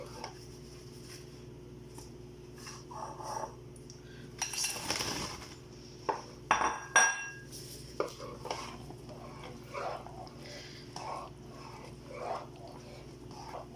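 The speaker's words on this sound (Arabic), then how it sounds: "بحركهم شوي شوي عشان ما ينفتحوا الحبات" Metal utensil clinks and scrapes against a pot of simmering yogurt with shish barak dumplings, slow, irregular strokes over a low bubble, with occasional louder knocks.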